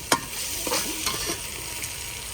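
Masala paste sizzles and fries in a hot pan while a spoon stirs it, with a few sharp scraping clicks over a constant close crackle.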